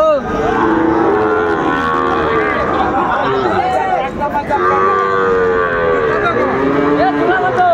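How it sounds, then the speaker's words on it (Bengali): Sahiwal bull calves at a busy cattle market, loud overlapping moos close by over a constant din of crowd chatter and people talking. "শাহিওয়ালের ষাঁড় বাচ্চা দেখছিলাম।"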